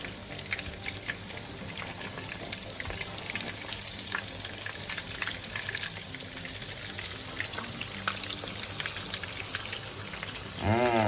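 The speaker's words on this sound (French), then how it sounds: "On va les faire frire jusqu'à ce qu'ils soient bien dorés, environ 5 minutes de chaque côté" Steady, dense crackling of food frying in hot oil, continuous and close, with a brief louder burst near the end.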